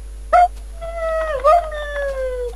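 A tamed dog in the Minecraft video game gives short whimpering yips and a drawn-out howl-like whine, clear and close, with quiet talk underneath.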